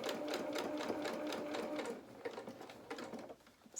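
A domestic sewing machine stitches fabric for a doll's head, running in a fast, even rhythmic whir at close range, then slowing into shorter stop-start bursts as the fabric is guided.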